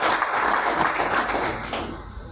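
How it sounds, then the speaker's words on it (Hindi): A political rally crowd in Kharkhoda breaks into steady, dense applause, loud and continuous throughout before easing slightly at the end, with faint talk beneath. "आप तालियों से स्वागत करते हैं।"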